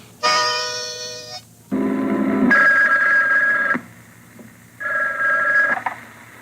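A telephone rings in loud electronic bursts, each a buzzy tone lasting about a second, with short gaps between them, close and clear with nothing else over it.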